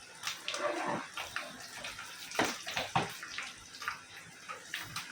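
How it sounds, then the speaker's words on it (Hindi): Curry leaves spit and crackle in hot oil for a Konkani drumstick and prawn dish, a dense, close sputtering with irregular sharp pops that continue throughout. "अभी ये करी पत्ता इसमें डालेंगे और चेहरे को पीछे करेंगे, नहीं तो छटकने लगता है।"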